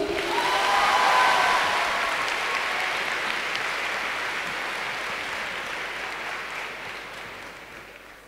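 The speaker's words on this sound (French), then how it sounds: "Vous pouvez l'applaudir." Audience applause at a manga conference at Japan Expo, a broad, even wash of clapping that swells in the first second and then slowly fades over eight seconds, with no speech on top.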